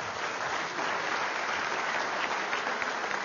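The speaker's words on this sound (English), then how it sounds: "Give him a nice round of applause." A theatre audience at a mathemagic stage show applauds a volunteer, dense and even clapping that holds steady throughout without any voices on top.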